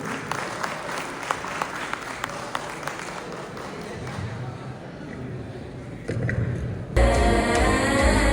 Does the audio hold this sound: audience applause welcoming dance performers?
yes